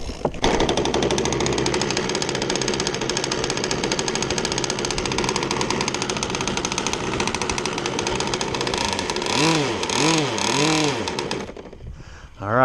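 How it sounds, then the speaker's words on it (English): A custom-built engine, fitted with a custom spark plug and running very rich, idles loudly and roughly at its first start, close by. It surges through a few wavering revs near the end before cutting out. "We're just gonna let this thing sit and idle for a while."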